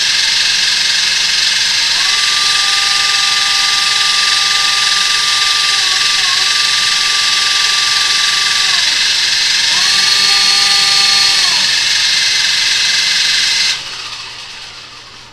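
Cobra YD-911 RC helicopter rotors spin with a loud, steady high whine, a motor tone swelling in two long passes before the noise drops abruptly near the end.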